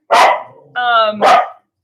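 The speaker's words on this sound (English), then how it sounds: "There's a dog out there." Two loud, close barks from a dog, separated by a brief vocal whine, with silence afterward.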